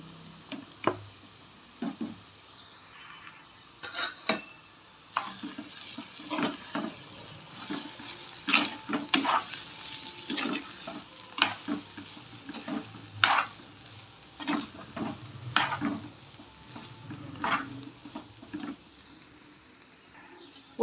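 Mashed potatoes are stirred into softened frying onions for puri masala, with irregular scraping spoon strokes over a low sizzle and occasional clinks against the pan.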